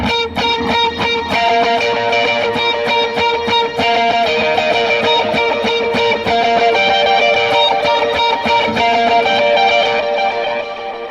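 Electric guitar playing the intro of a song through a Helix-style modeler with effects, bright picked melody notes ringing over a steady strummed backing, loud and continuous without voices.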